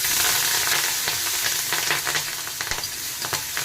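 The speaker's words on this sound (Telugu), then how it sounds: "శనగపప్పు, ఆవాలు, జీలకర్ర, మిరపకాయలు, కొద్దిగా ఇంగువ, కరివేపాకు, కొత్తిమీర వేసి కలియబెట్టండి కాసేపు." Chana dal, mustard seeds, cumin and chillies sizzle and crackle in hot oil for a tempering, with steady frying hiss and occasional stirring scrapes, close and fairly loud with no talking.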